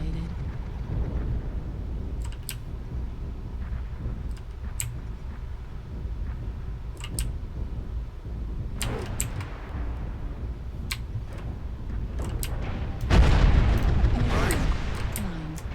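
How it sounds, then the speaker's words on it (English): Airstrike explosions in a MechWarrior battle, a few sharp distant pops and thuds leading to a louder, broader rumbling blast near the end over a low background. "Airstrike activated"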